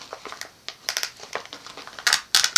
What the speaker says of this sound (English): I have to try pretty hard to get it to rip, but it will rip.